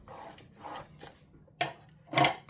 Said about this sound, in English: you're going to want to score it in half, both directions